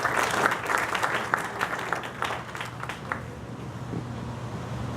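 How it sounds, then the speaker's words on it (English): Audience applause at an evening political candidate forum, a dense steady wash of clapping from a room full of people that slowly thins out over several seconds. "Give her a round of applause, please."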